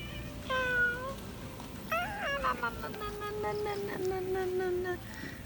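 A cat meows several times in a row, clear and close, with falling and wavering cries standing out over a steady outdoor hum during a rainy-season stay in Noen Maprang, Phitsanulok.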